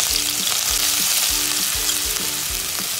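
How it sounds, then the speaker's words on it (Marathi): Ginger and garlic hit hot oil in a pan just used for frying mushrooms, giving a loud, steady hiss with a few rhythmic stirring scrapes and a faint tonal hum in the background. "आता आपण पहिल्यांदा अद्रक लसूण टाकणार आहोत"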